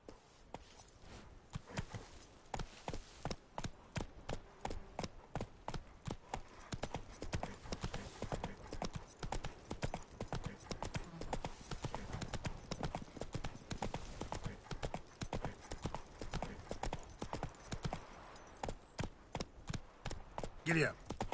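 Horse hooves gallop in The Witcher 3: Wild Hunt, a fast, steady clopping that keeps going for the whole stretch, close and even. A voice speaks briefly over it now and then.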